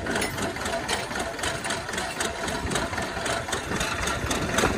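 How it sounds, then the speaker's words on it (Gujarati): A farm tractor's engine idles in a steady, unbroken mechanical drone, close and even from start to finish, with no one talking. "ટ્રેક્ટર આ બાજુ પાછું મારી દે ને, આ બાજુ"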